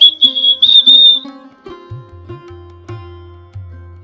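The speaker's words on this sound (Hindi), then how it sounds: "पहली सीटी बजी" A single sharp, high whistle is blown in a village field scene. It holds for about a second, then gives way to low, croaking tones.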